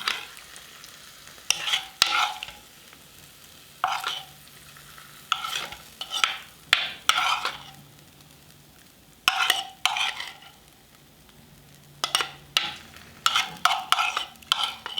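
Mushrooms stirred and fried in a pan for a mushroom, chestnut and bean soup: a close sizzle with bursts of scraping and clatter from a utensil at irregular intervals, no voices.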